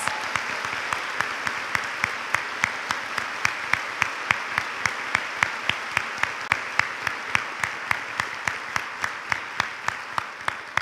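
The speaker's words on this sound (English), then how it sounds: "Let's give him a round of applause" An audience gives a round of applause for a UK performance major musician at a College of Nursing pinning ceremony, the clapping steady and strongly rhythmic for about ten seconds, with no voices over it.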